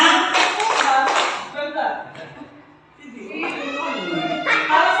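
Schoolchildren in a classroom clap together in a counted rhythm game, two loud bursts of group claps separated by a brief quieter pause, with a voice calling out in between.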